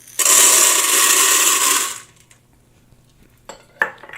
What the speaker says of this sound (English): And then I'm also going to put my popcorn in.